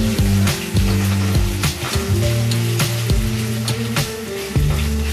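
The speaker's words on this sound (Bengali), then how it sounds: "এইবার আলুগুলো একটু ভেজে নেব।" Potatoes fry in white oil for a vegetarian aloo paneer dish, giving a steady hiss and sizzle beneath background music with a repeating tune.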